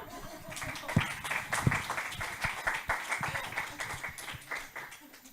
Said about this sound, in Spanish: Se merece un aplauso, creo yo.